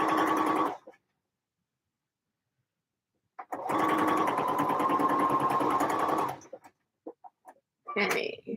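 A sewing machine stitches the shoulder seams of a garment lining in two bursts, a short whir and then a steady run of about three seconds, with a few faint clicks afterward and a final brief spurt.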